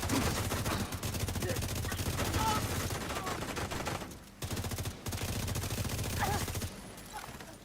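Dense, continuous gunfire from a shooter video game during close-range headshot kills, rapid shots layered over a busy mix, with brief gaps near the middle.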